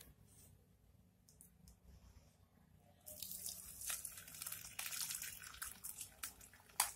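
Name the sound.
pouring curdled milk for paneer through muslin cloth and strainer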